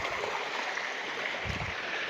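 Steady broadband rush of fresh water pouring down a waterfall near a village in Thanagazi, Sariska, Alwar, Rajasthan, continuous and fairly close with a brief low rumble midway, no voices.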